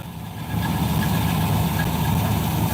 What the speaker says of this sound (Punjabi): ਹਿੰਦ ਵਾਲਾਂ ਦੀ ਕੰਬਾਈਨ ਹੈ ਹਿੰਦ 99 ਟੀ 999